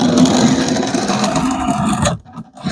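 A 1x30 belt grinder, with the belt mounted between two boards, grinds a convex edge on a kukri blade, a loud continuous rasping whir that cuts off abruptly near the end.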